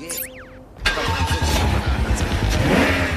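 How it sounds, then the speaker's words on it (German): A large BMW limousine in a parking garage in a radio drama starts up and drives off, its engine rumbling loud and close after a brief electronic phone tone at the start. "Mit der Fernsteuerung seines Telefons lenkt der Agent den großen Wagen zu sich"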